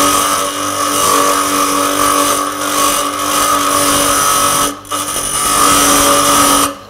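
A sharpening machine grinds a blade with a loud, steady whine and rough rasp that sustains throughout, dipping briefly once as contact eases before resuming.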